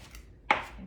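A knife chops fresh cilantro on a board in one sharp, close cut after a quiet stretch, with faint kitchen background.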